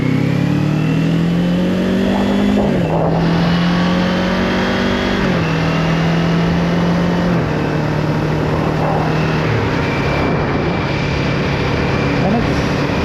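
A motorcycle pulls away from a stop with the throttle eased on, its engine note rising through several gear shifts and dropping at each change, loud and close beneath a voice talking.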